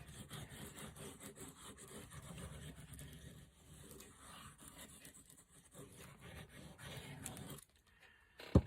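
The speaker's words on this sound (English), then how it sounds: "I'll spread it again with my little spreader wherever I put it." Small spreader scraping and rubbing glue across paper on a file folder junk journal cover, a faint, steady, close-up smearing sound that goes on for several seconds.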